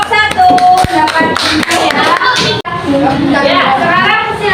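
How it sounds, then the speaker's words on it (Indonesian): Schoolchildren in a classroom clap together for a group, a loud, close burst of many small hands with some sharp individual claps and children's voices chattering over it. "Tepuk tangan untuk kelompok 1."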